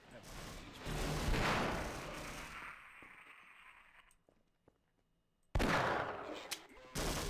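Gunfire from the Half-Life: Source video game, a powerful revolver among the weapons, comes in bursts of loud shots, pauses briefly, then returns with sharp reports near the end, with voices talking over much of it.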